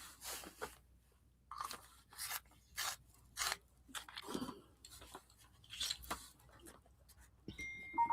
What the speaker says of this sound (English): I might have to sharpen a few things.